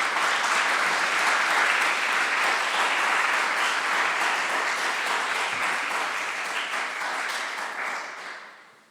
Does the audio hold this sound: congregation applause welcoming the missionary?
yes